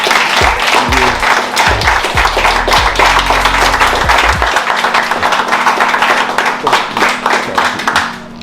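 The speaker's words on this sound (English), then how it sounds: "I will give a round of applause." A room of people breaks into a round of applause, dense loud clapping throughout that tapers slightly at the end, with some cheering and voices mixed in.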